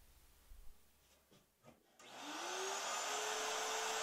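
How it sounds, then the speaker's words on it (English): A wood router cuts a shallow channel, just over 1/8 inch deep, around the top frame of a coffee table with an edge guide. After a few quiet knocks, the motor whines up and runs loud and steady to the end. "Now I route a channel around the entire top frame, making sure to keep the edge guide's lobes in firm contact with the frame's edge."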